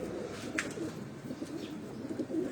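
Domestic pigeons cooing at a breeder's loft, a low murmuring coo that carries on steadily under a faint background hum, with one brief sharper chirp-like note near the middle.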